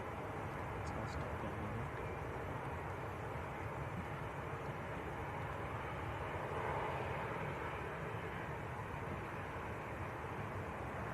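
A KLM Boeing 737-800 arriving from Amsterdam at Manchester Airport gives a steady, distant engine roar that lasts throughout with no clear change in strength, faint and even, with no speech on top.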